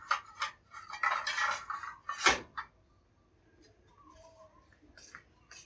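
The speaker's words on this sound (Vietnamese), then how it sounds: "Sau tiếp theo mình sẽ bắt chảo lên, đây là chảo dầu mà mình chế biến hàng ngày" Metal frying pan set down on a home stove before frying tofu, clanking and scraping in a short burst of kitchen clatter, followed by quieter handling noises.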